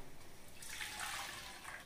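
Water is poured into a cooking vessel close by, a short splashing rush that starts suddenly and fades after about a second, with no speech.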